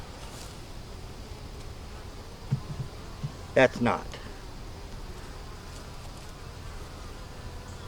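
Honeybees at an opened hive frame of capped honey and nectar make a soft, continuous buzzing hum that stays faint under the scene, broken by a few brief handling knocks and a short spoken remark.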